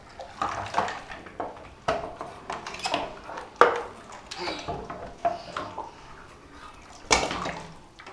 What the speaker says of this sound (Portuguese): Mãe, eu tô lavando louça com você, né?